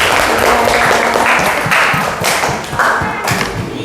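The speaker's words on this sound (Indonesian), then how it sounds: "Tepuk tangan untuk kelompok Aureli." Applause rises from a classroom of students for a student group just after their presentation, a steady patter of claps with scattered thumps that carries on without a break for a few seconds.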